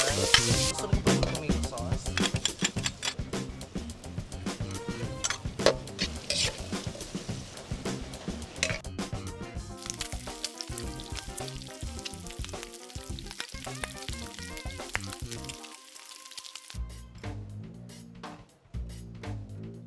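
Ginamos na sisi, a fermented oyster paste sautéed with garlic, onion and vegetables at a restaurant in Roxas City, sizzles with busy clattering stirring, under background music, with a brief pause near the end.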